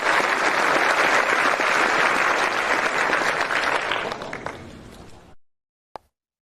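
Applause from the audience at a football award ceremony, dense and steady for about five seconds, then thinning and cutting off, followed by a single faint clap.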